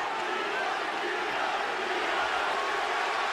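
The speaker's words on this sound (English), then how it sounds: "And the crowd is chanting, B-Hop, B-Hop." A boxing arena crowd chants B-Hop for a 43-year-old fighter against a 26-year-old, a dense, steady roar of many voices that fills the space without letting up.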